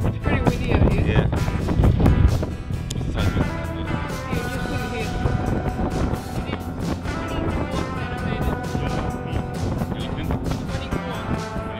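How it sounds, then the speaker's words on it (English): Heavy gusty wind buffets the microphone on a fishing jetty with low rumbling roar throughout, and voices come through faintly underneath. "Sorry about the wind. It's pretty windy out here."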